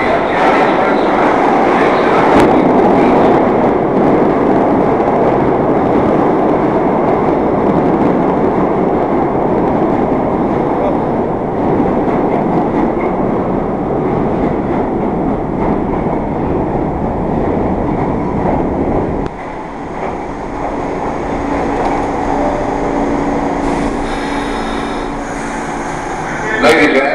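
A New York subway M train rumbles through West 4th Street station in a loud, steady roar of wheels and motors that eases slightly toward the end. Muffled talk and announcements sit under the noise.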